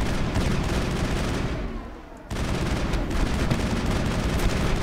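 Sustained assault rifle fire in the Mass Effect video game, a dense loud rattle of rapid shots that briefly drops off for a moment, then resumes just as heavy, with no speech.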